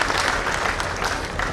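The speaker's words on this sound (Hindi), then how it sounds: "एक बार ताली बजा के" An audience at a Yuva Rajputana Sangathan community event applauds to honour Garima Singh, a dense, loud wash of many hands clapping continuously throughout, close and full, with faint voices mixed in.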